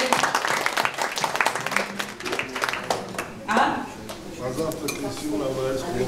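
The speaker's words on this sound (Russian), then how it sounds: "давайте аплодисменты как-то более энергичные" A crowd applauds in a dense patter of claps that swells and thins, with people talking over it, at a school breakfast event with the director.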